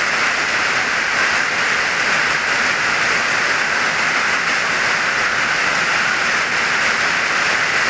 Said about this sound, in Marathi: लय जोराचा पाऊस यायला लागला त्या केरळमध्ये.